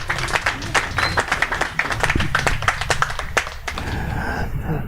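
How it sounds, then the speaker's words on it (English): An audience at a press-conference event in Canggu claps in scattered, uneven bursts for a few seconds, with distinct individual claps standing out before the applause thins into quieter murmuring. "a round of applause for Tropical Nomad"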